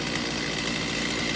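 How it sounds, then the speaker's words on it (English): Stihl 039 chainsaw idling nearby, a steady, even engine putter that holds constant throughout. "there's the saw, idling perfectly"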